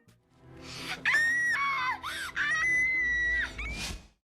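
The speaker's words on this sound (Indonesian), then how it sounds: "Anak itu pun langsung berteriak kesakitan" A child in a film screams in pain after an eye injury during an eye examination: loud, close, sustained shrill cries with gasping breaks, ending in a final wail before silence.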